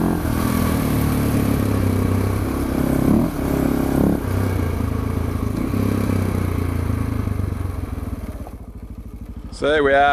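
Adventure motorcycle cruising along a road in southern Yellowstone National Park, a steady engine drone with wind rush under a voice, ending in a brief burst of different sound near the close.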